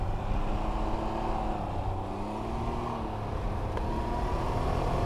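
A Can-Am Ryker 900 Rally three-wheeler accelerates on the road, its engine giving a steady, sustained drone with a gently rising tone, heard close up from the rider's position without talk.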